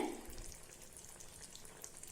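Tamarind water splashes into a pan of bitter gourd curry, a brief pour at the start giving way to soft, steady sizzling and bubbling, faint and close.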